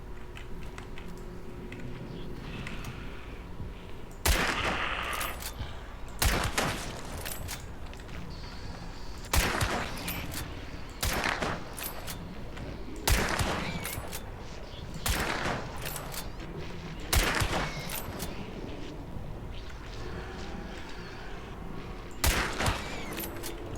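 Repeated loud gun bursts from a first-person demon-hunting video game, about ten sharp volleys spaced a couple of seconds apart over a steady background hum.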